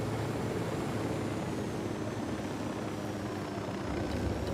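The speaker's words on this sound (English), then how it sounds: "That chopper is just gonna fucking chase us" A helicopter chases the player in the Ghost Recon Wildlands video game, heard as a steady, dense engine and rotor roar that holds at an even level throughout, with no voices.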